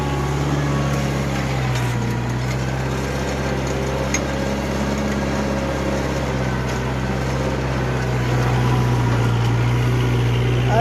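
Kubota 4501 tractor engine holding about 2000 RPM in heavy, sticky soil, a continuous close-up throbbing drone whose pitch stays level and shifts slightly only near the end.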